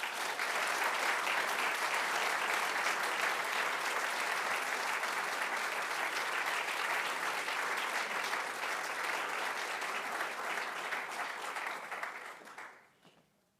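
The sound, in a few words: audience applause welcoming lecturer David Wengrow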